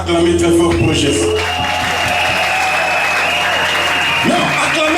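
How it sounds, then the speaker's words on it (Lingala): A church congregation at a consecration service for servants of God applauds and cheers loudly and continuously, with voices and a sustained tone mixed into the dense roar. "Acclamez très fort pour Jésus"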